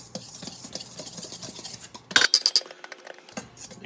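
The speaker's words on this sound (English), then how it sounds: "2 tablespoons of sugar. 1, 2, give that a quick mix." A spoon clinks against a glass bowl while two tablespoons of sugar are stirred into a mixture, a short burst of bright clinks over soft scraping.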